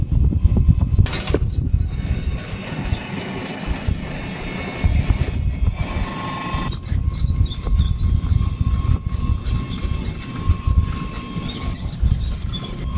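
A shuttle cart jolts along a bumpy road to the Bisezhai station on the Yunnan–Vietnam railway near Mengzi, Yunnan, producing a loud, continuous rumble and rattle with clanks and squeaks, and no talking.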